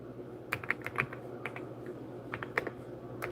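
Close keyboard typing: a run of crisp, irregular keystrokes, some sharper clacks among softer taps, over a low steady background hum and with no talking.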